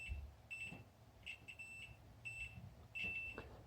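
Short electronic beeps from a continuity tester checking a BMW Airhead motorcycle alternator repeat in quick bursts over quiet background noise, each a thin high tone sounding moments apart.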